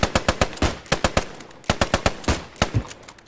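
Rapid bursts of rifle and machine gun fire during a military section attack training exercise, loud sharp cracks in quick irregular volleys with short pauses between.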